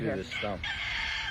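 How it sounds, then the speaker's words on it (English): A rooster crows in a garden on a tour of historic gardens in Lebanon County, a loud, close call with a person speaking briefly under it. "heard some crowing in the background"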